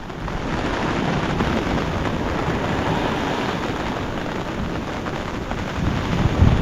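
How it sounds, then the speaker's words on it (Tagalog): Thunder rolling during a storm outdoors, a deep continuous rumble mixed with wind buffeting, holding steady before swelling slightly louder at the close. "Yan, kumukulog."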